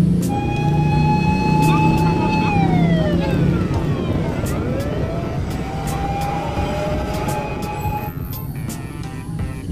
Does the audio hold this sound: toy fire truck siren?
yes